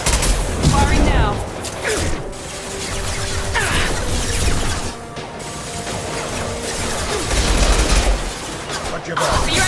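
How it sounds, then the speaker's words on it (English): Rapid volleys of gunfire and mechanical weapon clatter in Mass Effect Legendary Edition, dense and continuous with occasional heavier impacts, with voices speaking during the firefight. "Firing now."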